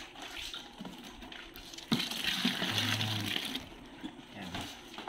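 Two dippers of water are poured into a homemade dishwashing liquid soap mixture, a steady splashing gush that swells and continues for several seconds, close by and without talk.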